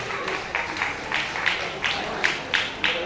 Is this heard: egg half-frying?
no